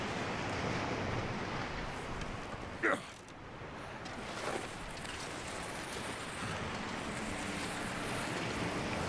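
Wind in the survival video game The Long Dark, blowing as a steady broadband rush with gusting swells, fairly faint, plus a brief sharp sound early on.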